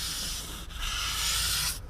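Fine-grit sandpaper rubbed over Ford Fiesta ST car bodywork during rust repair, a close, continuous dry scratching hiss with one brief break in the stroke.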